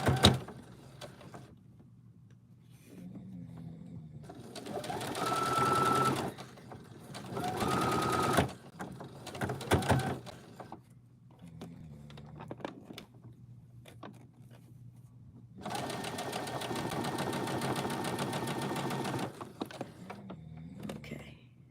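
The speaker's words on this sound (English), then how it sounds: "And then I'm gonna just sew." A sewing machine stitches quilt pieces in several bursts of steady, fast mechanical whirring, a few seconds each, with quiet pauses and light handling noises in between, loud and close.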